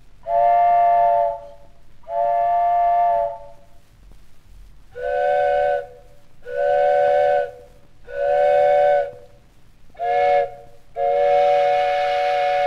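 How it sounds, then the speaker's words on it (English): Steam whistles of toy trains toot in a series of seven loud, clear blasts with short pauses between, the later ones shorter and sharper, alone with no talk. "Now all three of us can blow our whistles"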